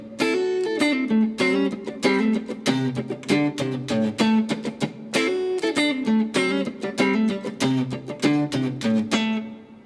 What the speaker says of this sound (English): We have to put that percussive motor behind it, so it sounds like this.